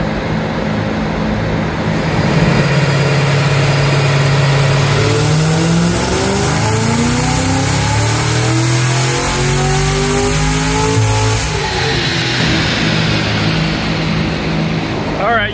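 Cadillac CT5-V Blackwing on a dyno with its stock tune, the engine roaring loud and close as it revs up in one long sweeping pull, rising steadily before dropping off, with voices faintly underneath.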